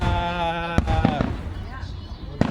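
Fireworks go off with several sharp bangs spread out over a couple of seconds, while a voice talks and calls out over them.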